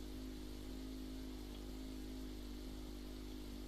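A car engine runs steadily in a video game, holding a constant mid-pitched hum at an even level throughout with no revving and no voices.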